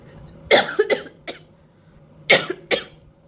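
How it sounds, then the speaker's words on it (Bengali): A person coughs in two short fits, a few dry hacking coughs each, close to the microphone in an otherwise quiet room. "সরি আমার খুব কাশি হচ্ছে"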